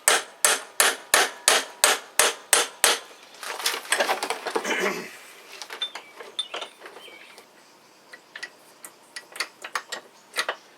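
Hammer blows tap on a ball joint on a Jeep Wrangler TJ front end, about nine sharp, evenly spaced metallic strikes, followed by a scraping rattle and lighter scattered clinks of tools.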